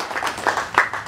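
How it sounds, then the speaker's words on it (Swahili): Applause for the President of Tanzania at a gathering in Katavi, a crowd clapping in loose, uneven bursts for about a second, moderately loud and fairly close. "Kwa kweli hapa tumpigie makofi"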